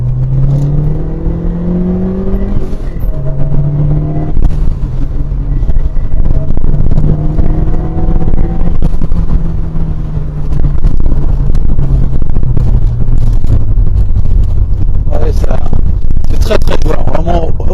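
A Lancia Delta Integrale Evo 1 HF rally car accelerates hard, its engine rising in pitch through successive gears with wind buffeting, loud and close, mixed with talking.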